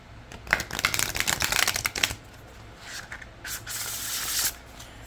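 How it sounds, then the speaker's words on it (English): Oracle cards from a 44-card folklore deck being riffle shuffled, a quick burst of rapid flapping card riffles followed by softer sliding and a second flurry, close and fairly quiet with no talking. "I could definitely riffle shuffle the deck"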